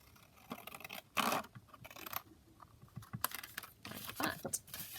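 Scissors snip through fabric scraps being trimmed for pockets, a few close, quiet crisp cuts with rustling cloth between them.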